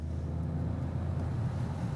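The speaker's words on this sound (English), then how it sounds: "There's an engine noise generator, which made me laugh a little when I first heard it." A low, steady artificial engine note from the Opel Corsa F's engine noise generator, a continuous sporty hum heard from inside the compact car while driving.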